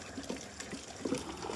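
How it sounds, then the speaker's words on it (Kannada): Water from a 760-foot borewell runs into a 550-foot borewell to recharge it, giving a low, continuous gurgling flow with soft splashy bursts, heard at moderate distance with no voices. "ಸರ್ 45 ನಿಮಿಷದಿಂದ ಈ 550 ಅಡಿ ಆಳದ ಬಾವಿಗೆ 760 ಅಡಿ ಆಳದ ಬಾವಿ ನೀರಿಂದ ತುಂಬ್ತಾ ಇದ್ದೀವಿ"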